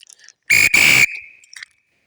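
Two sharp, loud whistle blasts in quick succession to call a dog in a forest, the second slightly longer, followed by a fainter trailing tone and brief noise.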